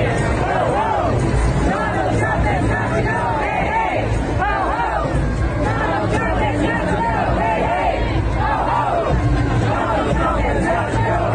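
A large protest crowd in New York City fills the air with dense, continuous shouting and chanting, many voices overlapping loudly and close throughout.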